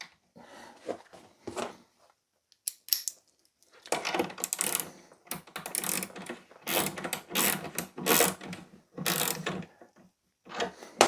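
A ratchet or wrench tightens a nut on a solar panel mount, giving close, irregular bursts of clicking and metallic rattling separated by short pauses.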